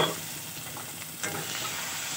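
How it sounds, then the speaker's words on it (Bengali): Spice masala with chopped tomato sautéing in hot oil, a continuous close sizzle with a few stirring scrapes and a small burst of crackle partway through. "তো আমি তেল উঠাম দিয়ে কষাবো মশলাটা"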